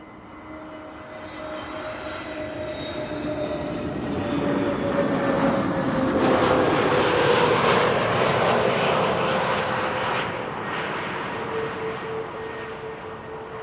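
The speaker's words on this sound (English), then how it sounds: "this is an A320neo from EasyJet arriving from Milan" An EasyJet Airbus A320neo lands at Amsterdam Schiphol after a flight from Milan, its engine roar building steadily to a loud peak near the middle and then easing off, with a sustained whine running underneath.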